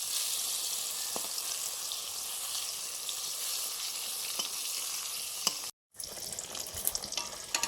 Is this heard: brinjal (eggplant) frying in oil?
yes